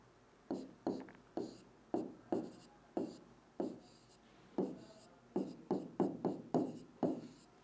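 A maths expression is written by hand, heard as a series of close, soft scratchy strokes in an irregular rhythm, some quick pairs and some short gaps, alone with no talking.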